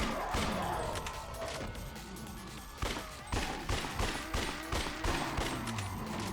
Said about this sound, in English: Why am I shooting him